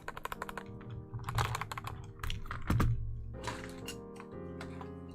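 Quick, clicky keystrokes rattle on a loud computer keyboard, fast bursts of taps with heavier thocks mixed in, close and isolated with no talking.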